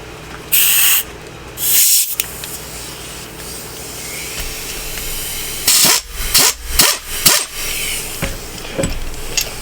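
Compressed air blowing in short bursts while working on an ATV brake caliper and bracket in a shop: several loud hissing blasts, two early ones and a cluster of rapid bursts near the end, with no talk.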